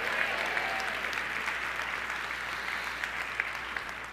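A church congregation applauds, a dense, steady wash of many hands clapping at moderate distance, continuous for several seconds with faint voices mixed in.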